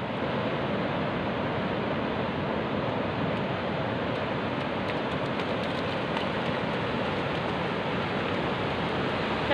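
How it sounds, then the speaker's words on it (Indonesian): Ocean waves at Pantai Panjang beach in the morning make a continuous broad wash of surf, loud and steady with no clear breaks between breakers and no voices. "Ombak lompat."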